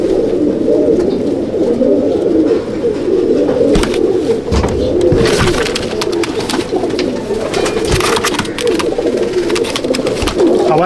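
Old-bloodline Chennai/Andhra Madrasi pigeons in a loft coo steadily and overlap, with wing flutters and shuffling mixed into a busy, close bird chorus.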